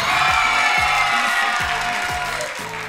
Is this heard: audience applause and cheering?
yes